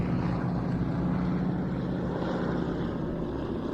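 A propeller aircraft carrying wing walkers flies past at a seaside air show, its engine a steady, loud drone that holds throughout with no talk over it.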